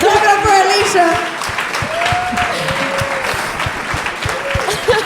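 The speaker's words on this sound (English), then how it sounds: "Clap it up for Alicia." A live audience at an alumni panel recording claps steadily for about five seconds, a full, close round of applause with a voice talking over it.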